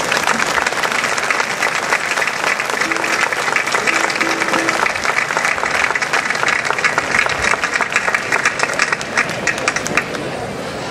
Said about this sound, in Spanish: hay que aplaudir al Ayuntamiento de Tegueste por hacer una fiesta tan digna de un pueblo de tradiciones como este, y para ellos ese fuerte aplauso.